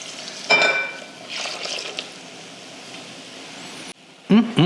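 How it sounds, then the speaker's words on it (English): Hot oil poured onto chili flakes for chili crisp hits with a sharp burst of sizzling that settles into a steady crackling hiss, followed by a couple of clunks at the end. "Now here comes the sizzle. Take our hot oil. I'm just gonna pour it right in there."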